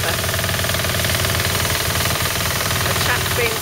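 A small Vidhata stationary thresher runs alongside a two-wheel tractor threshing wheat, giving a loud, close, steady mechanical chugging and rattling drone with a rapid knocking rhythm throughout.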